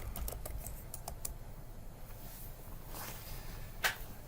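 Computer keyboard typing in a Linux shell, with a flurry of rapid keystrokes at first, then a pause, and then a few more keys including a final sharper press, all over a quiet room background.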